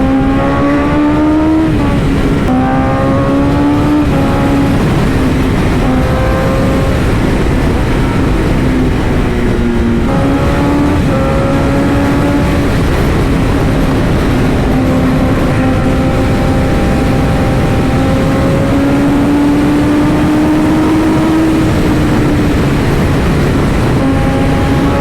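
A truck engine revs hard and runs loud and close, its pitch swelling and dipping through repeated throttle blips over a steady rumbling drone.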